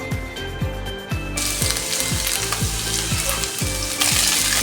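Ginger and garlic hit hot coconut oil for an okra and tomato curry, giving a loud, dense sizzle close by, with a regular rattling, ratchet-like pulse repeating underneath and the hiss intensifying near the end.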